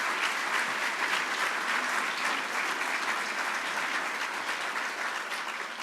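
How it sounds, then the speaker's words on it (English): Sustained audience applause fills a hall during a 2015 city mayor's State of the City address, steady dense clapping throughout with no talk over it. "So we can give them a round of applause"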